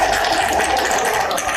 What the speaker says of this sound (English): that was like a dick fart spray that turned into a bubbling fart. Spray, bubble. A bubbling, gurgling fart.